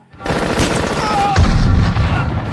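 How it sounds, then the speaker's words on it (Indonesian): Dense, loud gunfire rattles almost continuously, with booming impacts and roaring engines beneath, during a Terminator film chase. "ia tetap berusaha fokus memegang kemudi dan menghindari tembakan sang Terminator"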